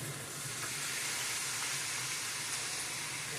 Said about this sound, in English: Alright, so now I'm going to throw in my tomato sauce.